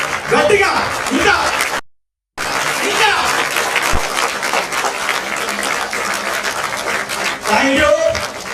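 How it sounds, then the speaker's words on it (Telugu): A hall of students on their feet clapping hard at a school prize ceremony, steady heavy applause broken by a short gap, while someone speaks over it near the start and end. "విద్యార్థులు మాత్రం లేచి గట్టిగా చప్పట్లు కొట్టాలి."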